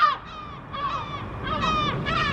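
Seagull calls ring out close and loud in a series of harsh, repeated cries across a couple of seconds.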